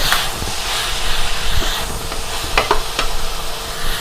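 Bacon stir-fried with mushrooms and spring onion in a pan, making a loud, continuous sizzle broken by scraping stirs and a few sharp utensil clicks near the end, heard close up with no talking.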